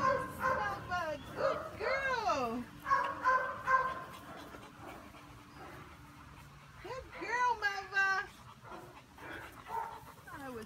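Dogs in a play area bark, yip and whine in several short bursts with pauses between them. Some panting comes through, and a person talks softly now and then.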